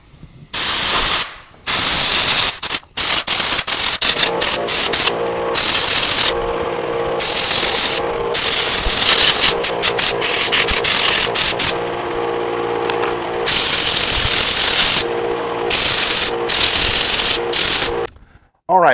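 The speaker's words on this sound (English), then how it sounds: "I'm actually going to blow this out with compressed air." Compressed air blasts dirt and debris out of a weed eater in repeated loud hissing bursts with short pauses between them, ending in a brief quiet gap and a final burst.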